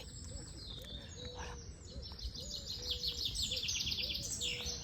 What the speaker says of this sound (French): Ah, le bruit des oiseaux.